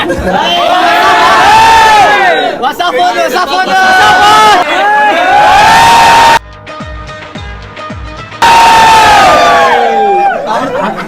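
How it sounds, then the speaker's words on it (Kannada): A dense crowd at a gathering of Kannada YouTubers roars and shouts in loud, sustained cheering, dropping to a brief quieter lull of chatter before the din surges back at full volume. "ಅವಾಗ ಮತ್ತು ಇವಾಗ ಫುಲ್ ಕ್ರೌಡ್ ಐತೆ"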